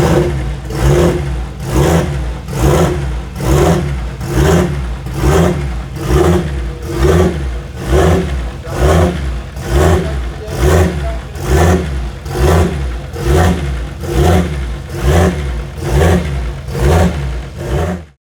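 A PRP RB26 cast-block engine with a cast head is turned over on an engine dyno, chugging loudly and close in a steady, even rhythm of pulses for the whole stretch, with no voices.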